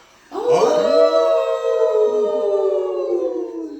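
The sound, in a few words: people imitating a wolf howl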